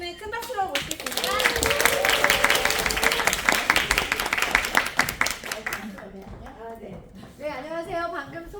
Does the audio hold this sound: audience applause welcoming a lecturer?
yes